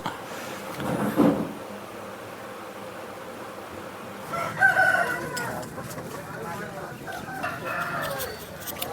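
Roosters crow at a rooster market in Vijayawada, with a couple of clear crows a few seconds apart over a busy, low background murmur and scattered clucks.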